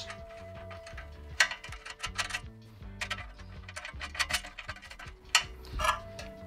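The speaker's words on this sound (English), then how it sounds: "With a supplied spanner in the kit, you can just tighten those up" A supplied spanner tightens nuts on a TV stand's pedestal base, giving close, quiet metallic ratcheting clicks and taps in irregular bursts.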